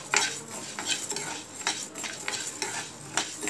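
Toor dal (pigeon pea lentils) stirred as they fry in oil in a pan for a lentil chutney, with a soft sizzle, scraping spoon strokes and clinks against the pan at close range, no voices.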